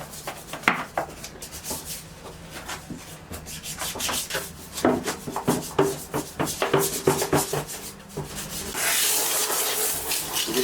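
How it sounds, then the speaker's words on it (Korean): Stiff brush scrubbing the crevices of a bidet during a semi-disassembly clean, a close, steady run of rough rubbing strokes in quick bursts, growing denser and louder toward the end. "솔을 이용해서 이 틈새들 이렇게 막 틈새들도 청소할 수가 있어요"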